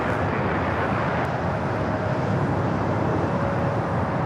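An Airbus A330-200 takes off from runway 24 Left at Los Angeles LAX, heard as a steady, loud, broadband jet roar that holds constant throughout without any talk.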